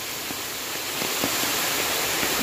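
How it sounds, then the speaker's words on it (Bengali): Small waterfall formed by rain along the Khagrachari highway, pouring in a constant even rush with occasional soft splashes, close and unbroken. "এটা হচ্ছে একটা মিনি ঝর্ণার রূপ দিছে।"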